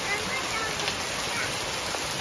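Hail and rain pour steadily during a summer hailstorm in Coorg, a dense, even hiss and patter of falling ice and water close by, continuous throughout with no clear individual strikes.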